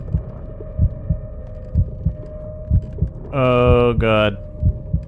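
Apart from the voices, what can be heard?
heartbeat during panic attack in video game Call of Cthulhu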